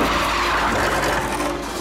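A car accelerates hard in a Jumanji film scene, a loud, dense engine roar with broadband rushing noise that holds steady for about two seconds before cutting off abruptly.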